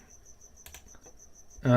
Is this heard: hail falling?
no